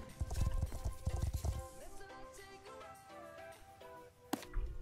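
Rhythmic clip-clop of horse hooves while riding in the video game Star Stable Online, steady footfalls up front, then fading under light musical tones and a brief louder hit.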